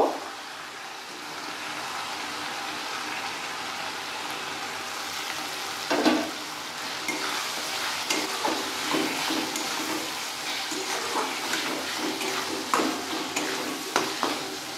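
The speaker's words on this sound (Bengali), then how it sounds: "এবার আমি টমেটো কুচি দিয়ে দেব।" Chopped tomatoes drop into a hot pan of dhaba-style egg tarka masala, setting off a steady loud sizzle with a sharper burst near the start of the splash, followed by repeated scraping stirs, no talking.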